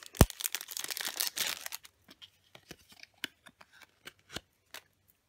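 Paper washi tape packaging is torn and crinkled open close up, starting with a sharp snap and a burst of rustling, then trailing off into scattered small crackles and taps; no talking.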